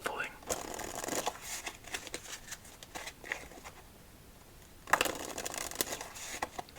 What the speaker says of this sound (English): just give this deck a very thorough shuffling.